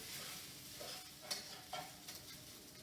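Rice is stir-fried in a wok, giving a faint, steady sizzle with a few soft scraping and tossing accents as it is moved around.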